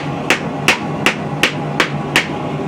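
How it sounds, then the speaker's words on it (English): A rawhide mallet strikes forged steel laid on a wooden stump, giving six evenly spaced, sharp knocks close up over a steady background hum. "all we're going to do is come over to our wooden stump and use our rawhide mallet"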